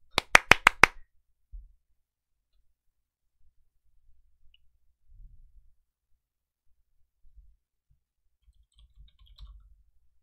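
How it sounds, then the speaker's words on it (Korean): A single person claps four or five sharp, close claps in quick succession during a live stock-market broadcast, followed by near silence with faint low thumps. "박수!"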